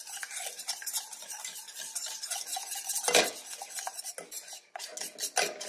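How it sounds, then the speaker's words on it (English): Flour paste being whisked in a pan on a switched-off stove, with fast continuous metal whisk scraping and clinking against the pan, close and fairly loud, broken by a few brief pauses. "I'm gonna go ahead and turn the stove off and just keep whisking this until this paste forms and there's no lumps."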